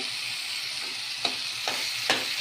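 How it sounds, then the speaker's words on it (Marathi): Tomatoes frying in a pan for garlic tomato chutney, a steady close sizzle with three soft scraping stirs spaced about half a second apart. "आता हे आपल्याला टमाटर असं मऊसूक होईपर्यंत शिजू द्यायचं आहे"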